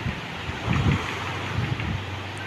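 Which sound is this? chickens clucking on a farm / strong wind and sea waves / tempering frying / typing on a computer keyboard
strong wind and sea waves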